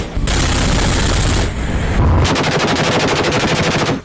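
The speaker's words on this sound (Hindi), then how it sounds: "उस पर लगी एंटी एयरक्राफ्ट गन से ताबड़तोड़ फायरिंग की गई।" Anti-aircraft gun on a Ukrainian warship at sea firing in a long, loud, rapid burst of heavy shots, with a steady pounding rhythm of evenly spaced reports, no talking.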